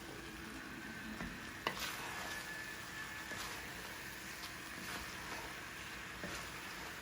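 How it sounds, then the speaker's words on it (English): Chicken and mushroom stew with salt, black pepper and cayenne being stirred in a pan: a faint, steady low simmer and sizzle with occasional soft spoon clicks, no talking. "Just mix it well."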